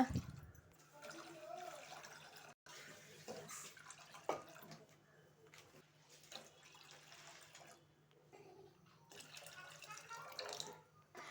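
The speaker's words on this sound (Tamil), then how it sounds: "இதுலேயே ஒரு 5 கப் அளவுக்கு தண்ணி ஊற்றிக்கோங்க." Water for sweet Pongal splashes and trickles into a pot in uneven bursts, with faint clinks and a low background hum.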